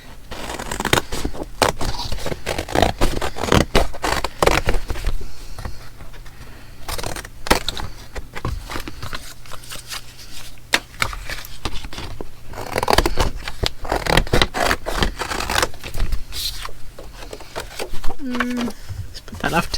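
Scissors snip through glued-down paper ephemera in a craft session, producing a long run of close, crisp cutting clicks and rustles with occasional paper handling noises, no speech.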